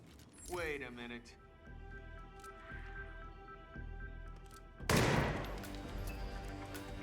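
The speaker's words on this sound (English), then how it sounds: "Gunshot heard, so people are coming." Gunfire in the stealth video game Hitman (2016), Sarajevo level: a sharp blast stands out partway through, following game sounds and a steady hum, with someone speaking over it.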